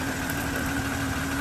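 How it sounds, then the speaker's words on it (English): A BMW G05 with the B58 engine idling after an oil change, a steady, continuous mechanical hum with a constant tone and no talk over it. "So you gotta let the engine run."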